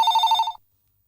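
A telephone bell rings in one short, loud, trilling burst lasting about half a second, then cuts to silence.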